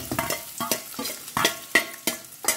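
Onions frying in a pan while being stirred, close sizzling with regular scraping strokes of a spatula, about eight rhythmic bursts.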